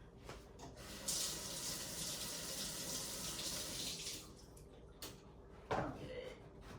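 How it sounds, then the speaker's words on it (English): An object is rinsed under a running tap during a craft session at home, a steady close rush of water lasting a few seconds, then knocks and handling sounds as the water stops. "I'm going to rinse this real quick."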